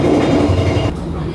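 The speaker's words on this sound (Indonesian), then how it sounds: "Malam ini kita naik kereta api Argo Cirebon dengan nomor KA29F." Riding aboard the Argo Cirebon executive-class passenger train: a loud, steady rumble of wheels and carriage noise throughout, close and continuous.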